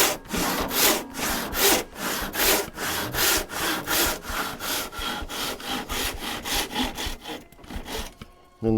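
Hand saw cutting a slice from a willow branch clamped to a workbench: steady rhythmic back-and-forth rasping strokes, loud and close, ending with a brief scrape as the cut finishes.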